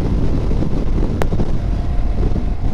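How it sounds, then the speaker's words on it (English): Steady wind buffets the microphone with a constant low rumble while riding a Suzuki V-Strom motorcycle, and a brief sharp click cuts through midway. "it's kind of windy"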